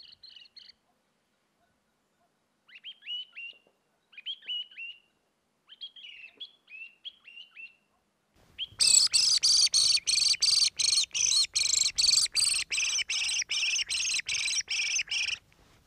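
Short, scattered chirping bird calls come first, followed by a long run of loud, rapid, rhythmic squawking calls from a wounded thrush pulsing close by, during a small-game hunt in Provence.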